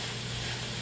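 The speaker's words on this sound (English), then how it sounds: "It is doing its sizzle." Steak and Gouda cheese sizzling in a pan for a philly cheese steak roll filling, a brief steady fry hiss ending in a sharp clatter.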